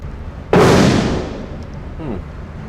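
An AR15 rifle fires a single sharp, loud shot outdoors; its blast decays over about a second, and a brief voice follows.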